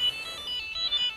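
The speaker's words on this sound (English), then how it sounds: "It's ringing, but I can't answer it" An LROTV rugged phone that has been run over twice by a Land Rover plays its electronic ringtone, a bright repeating pattern of short beeping tones, close and clear with no talk.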